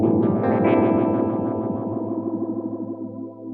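An electric guitar chord rings through a Fender Hammertone Flanger set to maximum resonance, a swirling, jet-like whoosh sweeping as the manual control turns, sustaining loudly and slowly fading with no talking.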